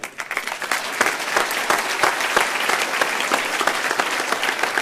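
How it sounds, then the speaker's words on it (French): Lively audience applause for schoolchildren at a presentation, many hands clapping in a dense, sustained burst with distinct sharp claps standing out, loud and close throughout. "je crois qu'on peut les applaudir"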